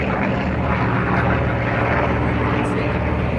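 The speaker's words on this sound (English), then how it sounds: "That aircraft still exists, pulling those beautiful streamers off the wingtips there." A propeller-driven warbird, a Grumman Avenger or Vought F4U Corsair, flying a display at the Wings Over Illawarra 2022 air show, a loud, steady engine drone filling the whole stretch.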